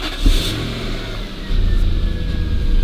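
A car engine catches after the immobilizer key is pressed, a brief crank giving way to a steady low running hum that swells louder midway and holds close by, with no talking.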